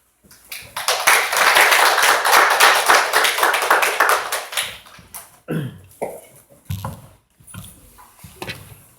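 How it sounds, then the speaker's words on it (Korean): Applause from an audience at a teachers' lecture at an elementary school in Yeoncheon, welcoming the guest speaker: dense clapping for about four seconds, then fading into scattered claps, shuffling and faint voices. "큰 박수로 환영해 주시기 바랍니다"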